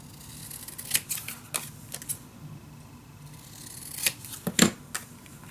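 Scissors cutting paper for a mini album, several crisp close snips spaced irregularly with a quick burst of cuts near the end, with no voices.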